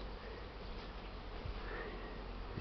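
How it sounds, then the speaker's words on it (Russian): Honeybees swarm out of their hives on a spring cleansing flight on a warm day, making a soft, continuous buzzing hum of many wings heard at low volume. "Ну, вот здесь пчелы уже работают."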